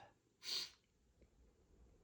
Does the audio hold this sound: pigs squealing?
no